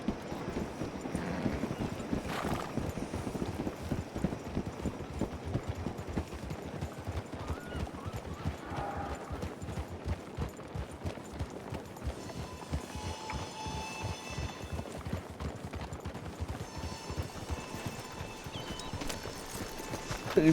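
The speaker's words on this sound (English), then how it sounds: "the horse was spooked as if there was a snake" Rapid hoofbeats clatter steadily throughout as a video game horse moves along, with a brief whinny-like cry early on as it spooks, and faint tonal sounds later.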